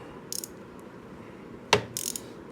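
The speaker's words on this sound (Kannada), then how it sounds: "ಇದು ರ್ಯಾಚೆಟ್" A Taparia 1/4-inch drive ratchet gives quick bursts of close metallic clicking, a short cluster early on, a sharp louder snap in the middle and another rapid run of clicks near the end, over a quiet background.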